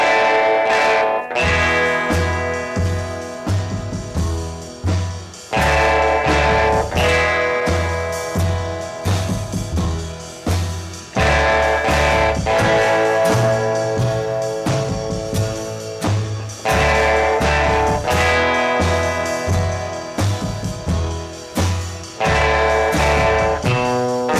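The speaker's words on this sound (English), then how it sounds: "one of the first examples to have a guitar with distortion" A loud, heavily distorted electric guitar plays a driving riff with a steady pulse, repeating in phrases, backed by a full rhythmic band, on a 1950s song.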